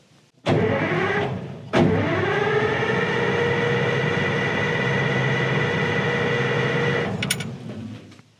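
An excavator engine is cranked over without fuel, a starter grinding steadily and loudly for several seconds after two short bursts, then cutting off without the engine catching.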